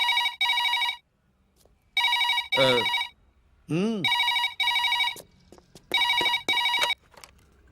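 A telephone bell rings loudly and close in repeated short bursts, with brief whooshing sweep effects between some of the rings.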